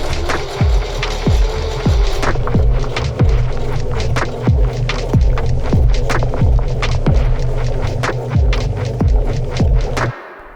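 A foot-pedal sewing machine stitches slowly and steadily, a loud close mechanical hum with a regular thudding needle rhythm, and the motor stops abruptly at the end.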